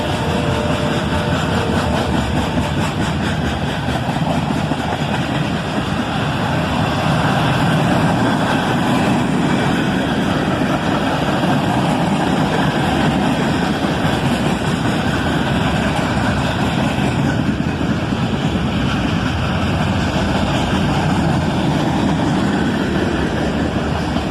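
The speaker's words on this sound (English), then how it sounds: "Another pair of ES44 ACHs leads this northbound manifest train, speeding up now and coming out of the speed limit from the siding" Northbound manifest freight train led by a pair of ES44AC locomotives pulling out of a siding and speeding up, a loud continuous engine drone and rolling rumble throughout, no speech.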